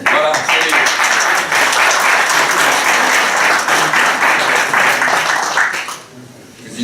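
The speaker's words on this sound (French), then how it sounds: "Président du 3e âge applaudit." Steady, dense applause from a crowd at a New Year's greetings event, loud and continuous for several seconds before thinning out and fading near the end.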